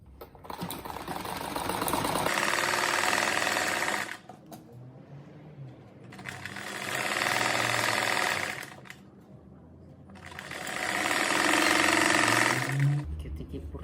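A sewing machine stitches a fabric cat-shaped door stopper, running in three long bursts of a few seconds each with short pauses between them.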